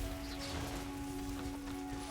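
Rain falls in the video game Genshin Impact, a dense, even patter with no pauses, steady throughout and fairly quiet, with a low background tone running beneath it.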